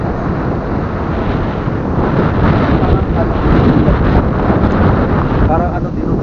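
Strong, steady wind roars and buffets the microphone on a bridge at Ton-ok Falls, loud and continuous, with voices faintly underneath.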